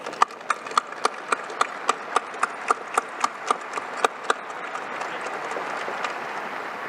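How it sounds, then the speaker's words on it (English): Cadets and guests at an Air Force Academy commencement clap in rhythmic unison, sharp evenly spaced claps that build for a few seconds, then loosen into a softer wash of crowd noise. "please join me in a round of applause for everybody that's gotten you to this point"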